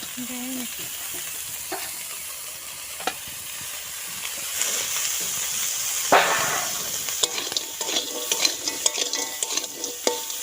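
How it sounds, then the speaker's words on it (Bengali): Crab frying in a pan for a spicy masala crab curry, with a continuous soft sizzle and occasional sharp clicks and scrapes of utensils, close by with no talking. "এদিকে হচ্ছে ক্যাংড়াটা ভাজা হচ্ছে"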